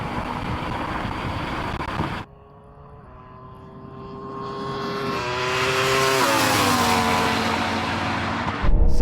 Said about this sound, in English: That Ferrari just came past me